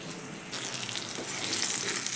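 Mango pieces fry in hot oil for a mango-and-fish curry, giving a steady, close sizzling hiss that swells slightly toward the end, with no talking.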